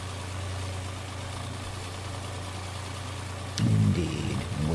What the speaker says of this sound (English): climb back in the tractor